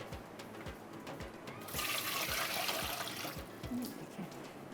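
Rice water poured into a cooking pot for coconut sweet rice, a soft liquid splash and trickle that swells midway and then settles, faint and close, with light kitchen knocks and no talk.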